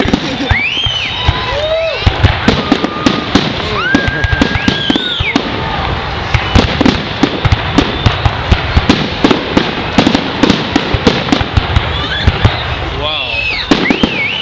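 Victoria Day fireworks burst loudly again and again in rapid, irregular cracks and pops, with whistling rockets rising between them, while people nearby talk and react.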